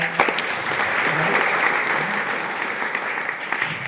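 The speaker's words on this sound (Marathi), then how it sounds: "रमेश भाईसाठी पण जोरात टाळ्या" An indoor audience at an Art of Living Guru Purnima gathering claps loudly and steadily, a dense, sustained round of applause filling the room.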